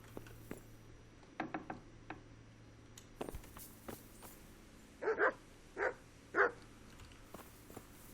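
A dog in Kingdom Come: Deliverance barks several times in a short, clear burst after scattered quieter sounds, with no talking over it.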